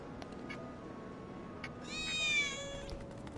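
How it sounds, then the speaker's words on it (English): A cat meows once in Final Fantasy VII Remake, a drawn-out, rising and falling wail standing out over quiet game ambience and faint clicks. "Ah, that was definitely a cat."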